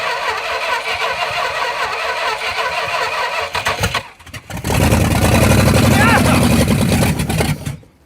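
A junkyard big block V8 cranks with a loud, grinding whir, pauses, then fires up and roars into a rough, rumbling idle at close range.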